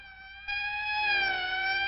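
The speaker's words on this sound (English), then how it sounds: "That's the 5th siren in the last hour." A loud police siren wails steadily, its pitch sliding slowly as it sounds close by, with nothing else heard.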